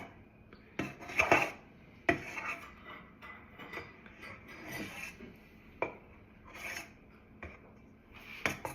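A baby stirs food in a bowl with a utensil, giving scraping, rubbing strokes against the bowl in an uneven rhythm with a few louder knocks, close by and with no talking.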